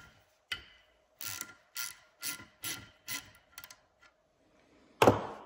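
Hand ratchet loosening a small nut on a GM type II power steering pump, a series of about eight short clicking bursts in an even rhythm, close and fairly quiet, ending with a sharper knock.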